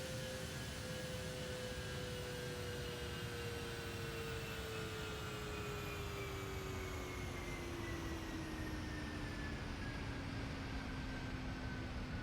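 A PMDG 737 NGXu airliner roars past in a flight simulator flyby, with a loud, steady broadband jet rush and a whining tone that slowly falls in pitch as it passes, no talking.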